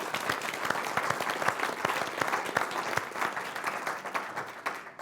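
An audience at an evening community event breaks into sustained applause, dense clapping filling the room steadily for several seconds before thinning slightly at the end.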